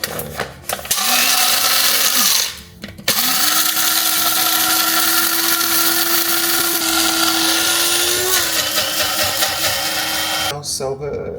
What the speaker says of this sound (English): I usually take those fresh beans. I put them in my grinder.